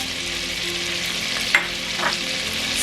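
Cloves fry in hot oil for yellow rice, giving a steady close sizzle with a couple of brief stirring clinks.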